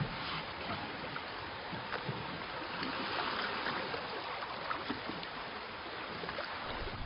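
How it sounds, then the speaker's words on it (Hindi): An oar dips and pulls through water in steady, rhythmic strokes, with soft splashes and swishing close by over a low wash of moving water, and no voices. "चप्पू पानी के अंदर।"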